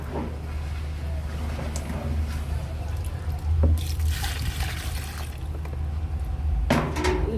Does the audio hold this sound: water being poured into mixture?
yes